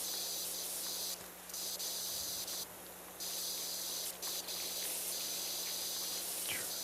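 A pressure washer in PowerWash Simulator 2 sprays soap in short hissing bursts that start and stop over a steady low hum, close and fairly quiet, with no talk.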